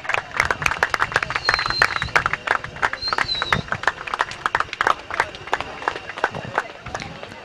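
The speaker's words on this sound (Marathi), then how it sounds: "आणि युवती संघासाठी एकदा जोरदार टाळ्या झाले पाहिजेत." Audience applause at a prize ceremony for a girls' team, with dense, fast clapping from a crowd sustained throughout, loud and near, while a voice speaks over it.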